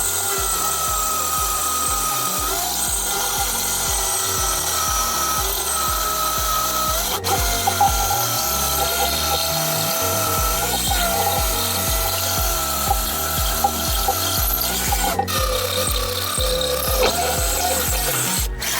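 A power drill bores holes while an Edson radial drive wheel is installed, giving a loud, steady grinding drone with a rhythmic low chugging that runs without pause for the whole stretch and has no talk over it.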